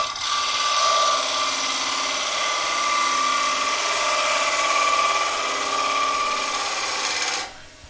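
A woodturning lathe cuts a thin-walled wooden bowl, giving a steady broadband shearing hiss with a faint motor hum beneath. It runs continuously and fairly loud for about seven seconds, then stops abruptly.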